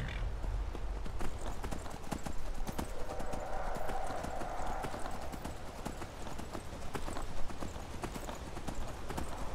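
Horse hooves clip-clop steadily while riding in the video game Skyrim, a continuous rhythmic trot set against in-game ambience, with no talking over it.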